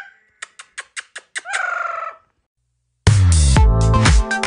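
Loud parrot calling, a quick series of sharp chirps rising into a sustained squawk, then after a short silence a blaring harsh screech up close.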